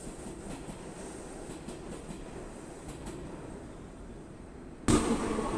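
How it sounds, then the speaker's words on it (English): A New York City subway train rolls past an abandoned platform, a steady rumble with faint rhythmic clicks, ending in a sudden louder rush as it comes close. "I waited for a train to pass by so you can have a better look of the abandoned platform"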